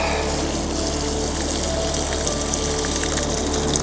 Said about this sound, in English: So this is the water coming out